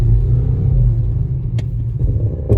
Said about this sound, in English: that's my ABS module basically pumping hard